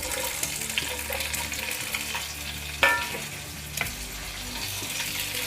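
Onion chunks for paneer sabzi fry in a pan with a steady, even sizzle, broken by a couple of sharp utensil clinks and stirring scrapes near the middle.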